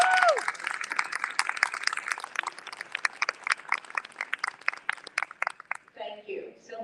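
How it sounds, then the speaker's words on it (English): Audience applause for a panel, dense brisk clapping from a crowd, loud at first and thinning out over several seconds, with a voice starting to speak as it ends. "Give them a round of applause."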